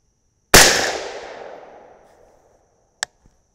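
A single sharp 6mm ARC rifle shot fired with a 28.8-grain CFE-223 powder handload, loud and close, with a long decaying echo and a faint click about two and a half seconds later.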